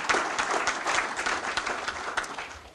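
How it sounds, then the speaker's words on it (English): Steady round of applause for a county council, many hands clapping densely and evenly at moderate loudness, unbroken by talk. "I want to give the council a round of applause for their hard work and their leadership"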